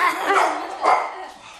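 A dog barks twice, two rough, muffled barks spaced about half a second apart, fairly loud and close, with no talking over them.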